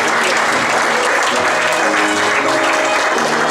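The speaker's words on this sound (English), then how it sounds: "Just keep clapping." A church congregation claps loudly and continuously, a dense wash of hands close by with faint singing or voices threaded underneath throughout.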